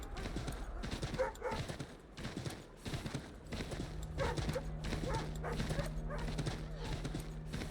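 Hooves clop in a fast galloping rhythm in Assassin's Creed III Remastered, briefly easing before picking up again, with a faint voice and a steady hum underneath.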